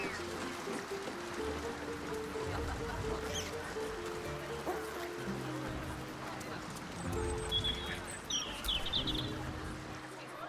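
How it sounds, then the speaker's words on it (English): Chirping birdsong from a woodland scene in Baldur's Gate 3 rises and falls across the clip, with bright calls later on, over a steady bed of game ambience and low hum. "Greenery and birdsong all around."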